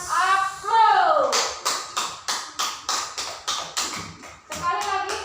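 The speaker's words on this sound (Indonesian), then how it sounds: "Kepada kita semua kita berikan aplaus." Children in a classroom clap together in a quick run of about a dozen rhythmic claps. A voice speaks before and after the applause.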